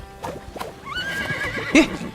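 A horse neighs in the SpongeBob SquarePants: The Cosmic Shake video game, a single rising and falling whinny with a sharp snort near the end, loud and close, with game sounds underneath and no talk.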